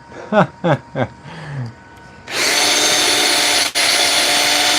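A few short spoken syllables, then a loud, steady high-pitched cordless drill whine, running on a low battery with the wrong bit, that runs continuously for over two seconds with a brief dip near the end.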